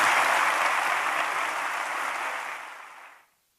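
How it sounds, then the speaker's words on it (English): An audience at a Dangerous Ideas conversation event gives a warm round of applause, a dense, loud wash of clapping that holds steady and then fades out quickly at the end. "Please give a warm round of applause for Will Self and Slavoj Zizek."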